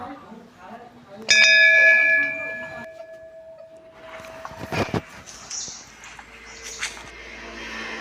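A single temple bell at a Nandi shrine is struck once, ringing out clearly with a long, shimmering decay, followed by faint clanks and room noise.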